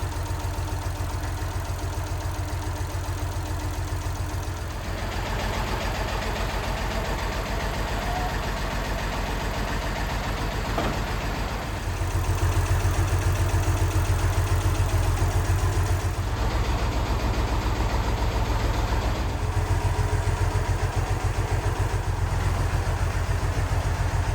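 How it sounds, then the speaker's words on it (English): A 56-year-old VW Beetle engine turns over as the car rolls backwards in gear, giving a steady, close low mechanical rumble with a faint rhythmic pulse that thickens midway, with no talking. "You can see as the car is moving backwards, the engine is turning too, which actually means we've left it in gear"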